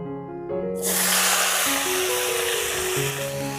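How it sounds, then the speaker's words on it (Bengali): Chopped bottle gourd drops into a hot wok and sets off a loud, broad sizzling hiss that bursts in after a brief musical opening and keeps going under background music. "লাউগুলোকে আমি কড়াইতে দেব।"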